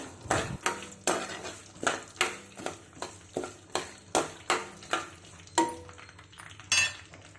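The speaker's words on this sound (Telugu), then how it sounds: "పోపు మొత్తం గరిటెతో కదుపుకుంటూ బాగా ఫ్రై చేసుకోవాలి" A metal ladle scrapes and clanks against a pan in a steady rhythm while cashews and tempering spices fry, about a dozen strokes, close up, with a faint sizzle beneath.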